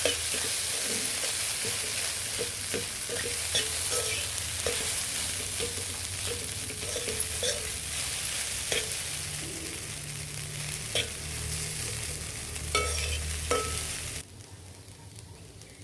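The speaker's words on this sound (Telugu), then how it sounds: "బిర్యానీ మసాలా అండి, 1 స్పూన్ వేసాను. మొత్తం కలిసేలా కలిపేది." Egg fried rice with a spoonful of biryani masala sizzles and fries steadily in a pan while being stirred, with scattered scraping clicks over the constant hiss, then the sizzle drops abruptly near the end.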